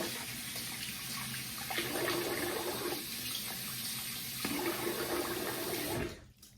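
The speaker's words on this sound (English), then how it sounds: "So I'm gonna rinse my face" Tap water runs steadily into a bathroom sink as a face is rinsed after a wet shave, with splashing shifts in the flow before it shuts off at the end.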